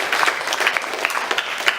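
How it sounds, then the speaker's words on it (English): Audience at a school debate event giving a short round of applause, dense steady clapping from a room full of people, heard alone with no talk. "the timekeeper, Ms. Justin Marie V. Montanes, a round of applause, please."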